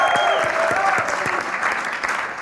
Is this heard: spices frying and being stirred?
no